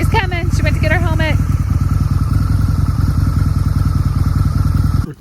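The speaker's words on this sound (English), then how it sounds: "This is a bike. This is a motorcycle." A Harley-Davidson motorcycle engine runs at a rough, rhythmic idle close by, with a person briefly speaking over it at the start.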